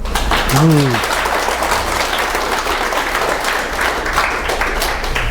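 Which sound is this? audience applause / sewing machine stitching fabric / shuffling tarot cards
audience applause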